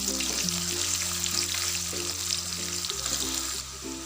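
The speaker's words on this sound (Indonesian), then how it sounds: "Bawang bombay ini digoreng sampai warnanya kekuningan ya" Onions frying in a pan for duck with green chili, a steady close sizzle with a faint stir near the end.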